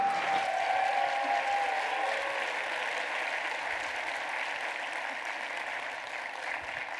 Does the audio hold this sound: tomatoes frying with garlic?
no